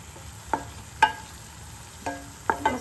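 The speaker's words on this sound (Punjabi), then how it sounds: "ਮਸਾਲੇ ਨੂੰ ਆਪਾਂ ਚੰਗੀ ਤਰ੍ਹਾਂ ਇਦਾਂ ਭੁੰਨਾ ਹਾਂਜੀ" Spice masala with red chili is stir-fried for a mushroom curry, with a few crisp spatula scrapes and taps against the pan at uneven intervals over a soft sizzle, close and quiet with no talking.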